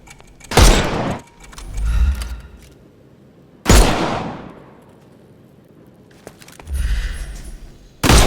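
Gunfire knocking armour off enemies in the video game Sherlock Holmes: Chapter One: three loud, isolated blasts spaced a few seconds apart, each followed by a low rumbling thud and a metallic ring.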